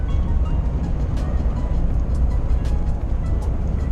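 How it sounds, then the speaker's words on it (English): A low, rumbling engine drones steadily from inside a MAN HGV truck driving on a smart motorway, with road noise and faint rattles throughout and no talking. "just listen to the engine for a bit, listen to the drive for a bit"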